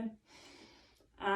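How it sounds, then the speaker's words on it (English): A deep inhaled breath during an at-home full-body pilates workout, a steady airy rush lasting about a second, framed by brief voice sounds at the start and end. "Keep your body oxygenated. Long breaths in"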